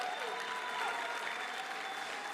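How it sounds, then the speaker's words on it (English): Steady audience applause at a political speech, a continuous even roar of many hands clapping at moderate level with no pauses, and a faint tone underneath. "You can applaud that."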